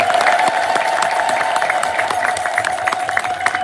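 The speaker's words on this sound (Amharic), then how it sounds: "አንድ እልል ብላችሁ አመስግኑ።" Crowd at an Ethiopian Orthodox church's annual feast celebration in Kronberg applauding steadily, with cheering and high ululation trills mixed in, dense and sustained throughout.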